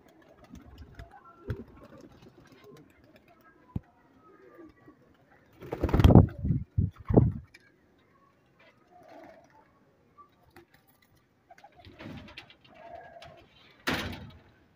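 A pair of pigeons gives a few low, soft coos, with two clearer bursts standing out against an otherwise quiet background.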